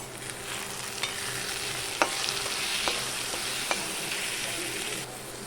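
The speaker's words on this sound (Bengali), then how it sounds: "এবার আমি একটু নেড়ে দেব" Bombay duck (lote fish) jhuri frying in a pan with salt and chilli powder, stirred by hand: a steady close sizzle with a few sharp spoon scrapes and taps against the pan, no talking.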